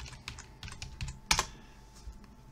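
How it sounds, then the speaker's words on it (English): Chromebook keyboard keys tapped in quick irregular bursts while a password is entered, close and fairly quiet, with one louder cluster of strokes midway and no talking. "the only way you can get back in is by typing your"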